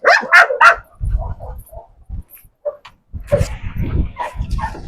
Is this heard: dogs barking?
yes